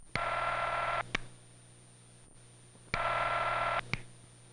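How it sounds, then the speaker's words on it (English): Telephone ringing tone after dialing, two buzzing rings about a second long each, spaced roughly two seconds apart, clear and steady with no talking. "or you may hear the sound of the ringing phone."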